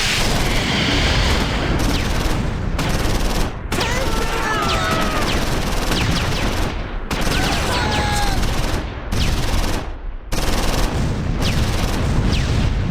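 Grenades burst again and again in the Close Combat 4 WWII game, set at Losheim during the Battle of the Bulge, aimed at a German Kommandowagen. The crackling blasts come loud and dense in rapid bursts, with short gaps between barrages.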